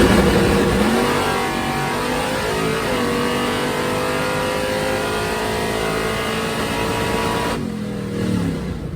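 Drag race car engine running loud and close, holding a steady rough idle with a slight rev rise at the start and a drop near the end, without talking.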